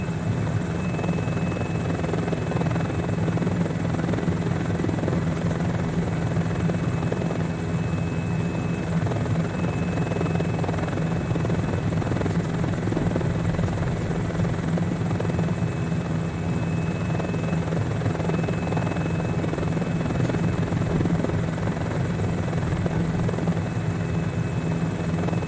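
A helicopter in Microsoft Flight Simulator on Xbox, flown with Thrustmaster T-Flight rudder pedals, drones with a steady, loud rotor and engine hum that stays even and unbroken throughout, with no voices over it.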